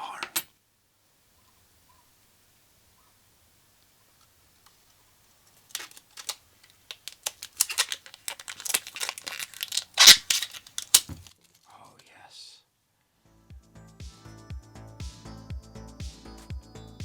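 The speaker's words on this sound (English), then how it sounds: "Pull off film ASMR." Protective film peeled off a plastic part of a NES R.O.B. robot during a teardown: crackling, tearing bursts close to the microphone, coming in irregular clusters after a quiet stretch, followed by softer rustling handling.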